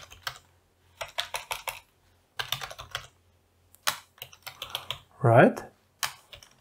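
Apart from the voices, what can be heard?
typing on a computer keyboard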